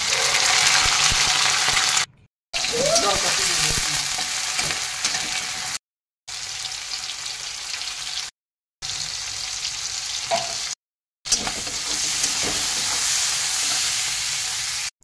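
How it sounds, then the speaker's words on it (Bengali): Shrimp seasoned with salt and turmeric fry in hot mustard oil in a wok, giving a loud, steady sizzle with occasional stirring scrapes. The sound comes in several segments separated by short silent gaps, with no talking. "এবার আমি চিংড়ি মাছগুলো ভেজে নেব লবণ হলুদ দিয়ে।"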